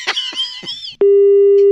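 A brief voice fades out, then a single loud, steady electronic tone sounds as the phone call cuts off.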